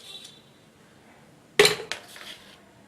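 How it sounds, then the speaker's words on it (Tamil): Two ice cubes dropped into a blender jar for an apple milkshake, a sudden loud clattering knock followed by a smaller rattle, then quiet. "அதுக்கு ஒரு பிளெண்டர் வச்சுருக்கேன். அதில் ஐஸ் க்யூப் சேர்த்துக்கலாம்."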